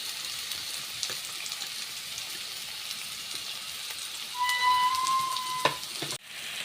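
Chopped onions sizzle in a hot pan for a spicy Goan-style fish curry, a steady close frying hiss with a brief tonal squeak near the end and a clatter at the finish.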